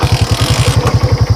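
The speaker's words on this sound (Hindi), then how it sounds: "तो आज इस बाइक को चलाते हैं बहुत दिन बाद" A motorbike engine idles with a steady, rapid thumping pulse, close and loud, on a hillside road in the mountains, with no one speaking.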